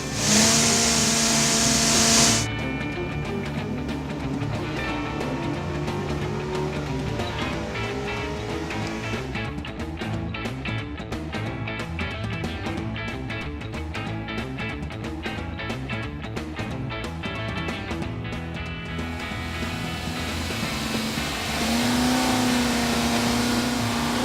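A powerful Mopar engine on a dyno holds a loud, steady roar at high revs, then drops back to a lower idle-like tone near the end.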